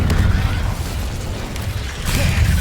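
An Incendio fire spell from Hogwarts Legacy bursts out as a loud, roaring blast of flame. It starts hard, eases off through the middle, then flares up again near the end, with a heavy low rumble running underneath throughout.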